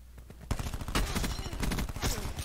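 Rapid bursts of gunfire crackle in quick succession in Call of Duty: Black Ops 4, dense and loud, with sharp shots overlapping throughout.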